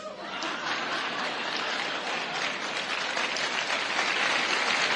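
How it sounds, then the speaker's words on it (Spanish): Steady applause from an audience greeting newcomers at a professional gathering, dense and sustained clapping throughout with a few faint chuckles mixed in. "Y por último le vamos a dar un aplauso a los nuevones."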